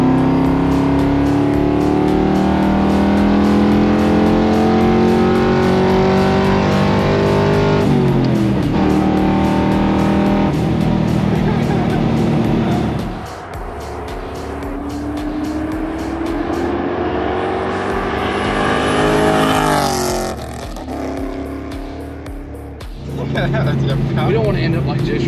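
A Ford Mustang project car accelerates hard through several gear changes, the engine note climbing and dropping in repeated loud sweeps from inside the cabin, with people talking over it.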